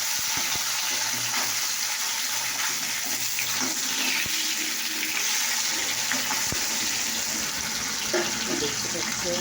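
Fish slides into hot oil in a home kitchen pan, setting off a loud, continuous hissing fry that holds steady throughout, with faint clinks underneath.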